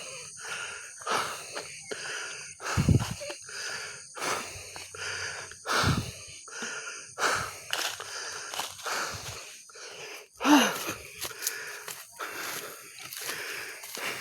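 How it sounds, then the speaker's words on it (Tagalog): Heavy, wheezing panting from a hiker after climbing Bundok Tralala: close, loud breaths rasp in an uneven rhythm with occasional snorting gasps and a few footsteps. "hingal kabayo na ako"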